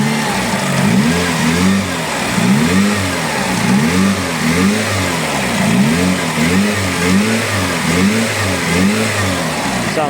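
A Mitsubishi Lancer Evo engine, freshly fitted with a new cambelt and water pump, revs repeatedly in steady rising and falling swells, loud and close with no talking.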